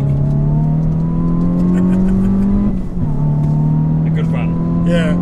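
A Hyundai N car accelerating hard on a track, its engine note climbing steadily, dipping briefly at a gear change and then rising again, loud and close, with someone talking over it.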